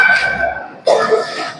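A single short cough from a homeless person sleeping on the street breaks through after a pause, close and fairly loud, with murmured background sounds before it.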